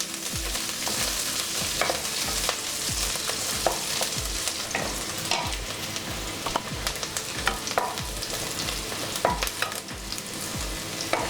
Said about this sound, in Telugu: మరి డీప్ ఫ్రై కాకుండా నార్మల్గా మనం ఫ్రై చేసుకుందాం.